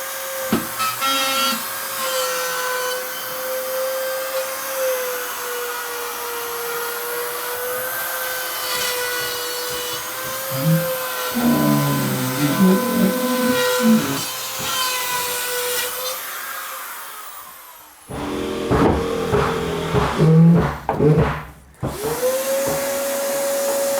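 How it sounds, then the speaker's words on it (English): A RotoZip fitted with a pilot bit cuts through drywall with a high steady whine that grinds and labors as it bites. Partway through it winds down and starts up again, loud and close. "Now it's time to just cut it out with the RotoZip."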